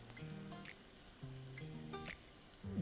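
Tomatoes and green chickpeas cook in a pan for chicken curry, giving a soft, steady sizzle under background music.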